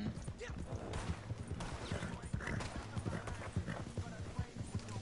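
Horse hooves clip-clop in the video game Red Dead Redemption 2, a fast, steady rhythm of close hoofbeats under game ambience, with players talking over it.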